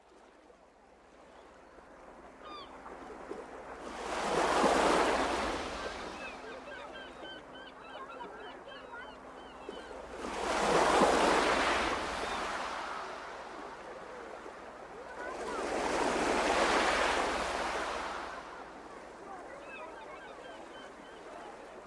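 Recorded sea waves play from a tablet, three slow surges of surf rolling in and washing back at regular intervals, soft and fairly distant with quiet lulls between each wave.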